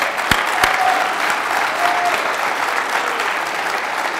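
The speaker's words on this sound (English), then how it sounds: "so big round of applause." Audience applause after a talk at a hacker conference, a sustained wash of many clapping hands with a couple of sharp louder claps near the start, steady and fairly loud with faint tonal squeaks mixed in.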